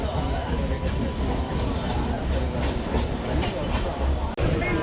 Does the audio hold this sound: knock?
no